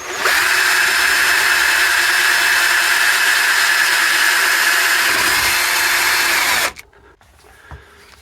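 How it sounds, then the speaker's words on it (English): Power drill boring through a wall during a shower renovation, a loud steady high-pitched whine running for several seconds before cutting off abruptly, leaving quiet with a small knock. "Unfortunately, I've got to drill through that"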